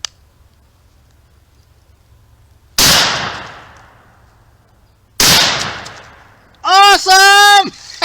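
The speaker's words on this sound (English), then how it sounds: "So you're going to shoot that target twice." Two loud shotgun blasts are fired at a target a couple of seconds apart, each with a fading echo, followed by an excited voice.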